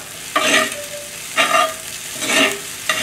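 Chicken fried rice stir-fries in a pan: three bursts of scraping and tossing, each a couple of seconds apart, over a steady close sizzle, with no talking.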